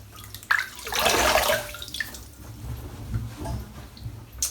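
Water splashes from a sink or basin as hands scoop it up to wet the face before shaving, a close, brief burst of splashing followed by softer trickling and dripping.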